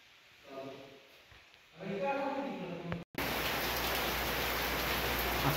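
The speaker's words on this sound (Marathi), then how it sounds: "पाऊस यायला लागला आहे" Rain pours down in a dense, steady hiss that takes over abruptly midway and continues loud to the end, after a quieter stretch with a voice.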